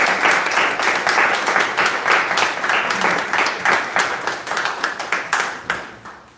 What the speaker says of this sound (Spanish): un aplauso para todos vosotros